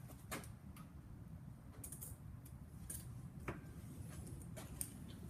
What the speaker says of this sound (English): And then slide your gear on.